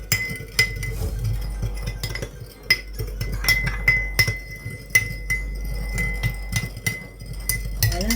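A spoon stirs a sauce of clear Maggi seasoning and olive oil in a small dish, making a steady run of light clinks and taps against the container, close and fairly quiet.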